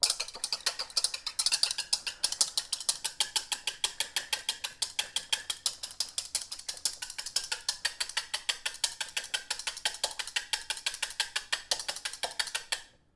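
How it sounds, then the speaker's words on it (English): A hand whisk beats egg whites with vanilla until frothy, a rapid, regular clicking and ticking that carries on steadily for several seconds, close and fairly loud with no talk, then stops abruptly. "All we want to do is just whisk that vanilla and that 1 tablespoon of the egg whites just until it's frothy"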